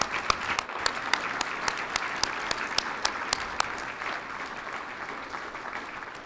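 Audience applause for medical professionals at a military change of responsibility ceremony, a sustained crowd clapping with a few sharp louder claps standing out, fading slightly toward the end.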